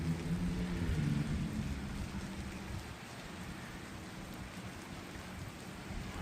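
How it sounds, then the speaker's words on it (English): Steady rain falling outdoors in an empty open area, a soft, continuous hiss of drops that starts a little louder and then settles, heard alone with no talking. "it is raining pretty good here"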